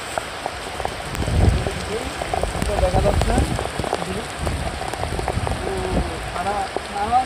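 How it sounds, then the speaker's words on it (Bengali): Steady rain falls in a Bangladeshi village during a wet day, a dense, continuous patter on surfaces close by, with people talking over it. "আমাদের মনে হয় সারা বাংলাদেশে বৃষ্টি নামছে"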